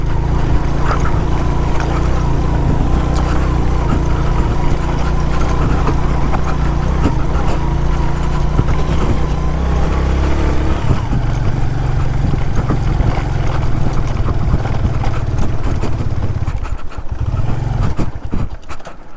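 Motorcycle engine riding hard up a gravel mountain road toward lakes, a loud steady low drone with wind and crunching road noise throughout, easing and turning choppier near the end.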